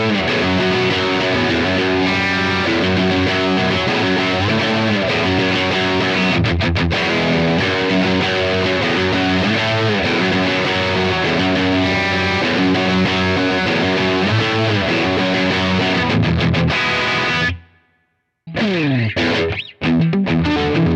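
A Fender Vintera 70s Stratocaster electric guitar with single-coil pickups plays through gain distortion, a continuous loud crunchy riff with sustained chords that drops out briefly near the end.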